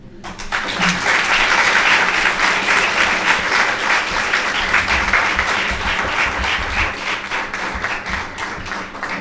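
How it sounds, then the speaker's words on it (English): A large audience applauds a poem recital at a talk, with dense, sustained clapping that stays loud and even for several seconds before easing slightly. No one speaks over it. "He deserves the more claps."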